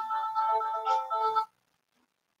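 A phone notification tone plays a short melodic chime for about a second and a half, clear and close, then stops into silence.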